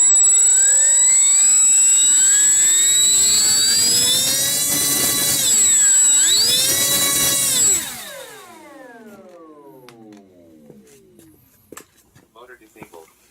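Electric motor of an Eleven Hobbies Bearcat RC plane with a modified ESC running up, a loud close whine that rises in pitch, holds, dips and surges again, then winds down into quiet clicks.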